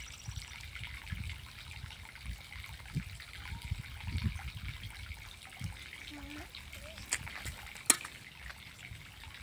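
Water trickles and gushes faintly over a dirt pile outdoors, a soft continuous wash with small splashes, while people talk quietly nearby.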